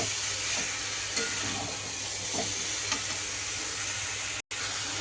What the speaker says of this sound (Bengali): এবার আমি এঁচোড়টাকে এই কড়াইয়ে দিয়ে দিলাম। একটু নেড়ে চেড়ে আমি মশলার সঙ্গে গোটাটাই মিক্স করে দেব।